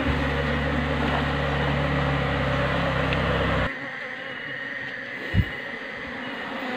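Honey bees buzzing steadily as a colony is moved from its hive, a dense continuous drone that drops in loudness partway through, with a brief knock near the end.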